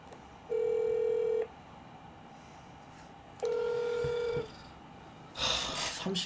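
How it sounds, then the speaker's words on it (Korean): A telephone ringback on an outgoing call: two long steady tones separated by silence, followed by a brief burst of noise as the line picks up. "잠시만 이경민한테 일단 전화해 볼게요"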